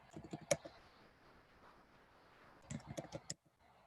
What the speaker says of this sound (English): Let's start typing her name in.